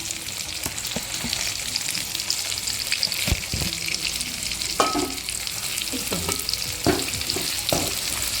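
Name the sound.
onion sautéing with cumin, pepper and poppy seeds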